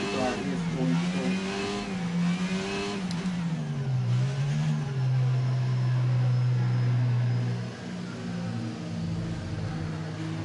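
Racing cars accelerate together on the Imola circuit in a racing video game, a loud, steady engine roar with rising and shifting pitch as the pack pulls away after a safety-car restart, with no talk over it.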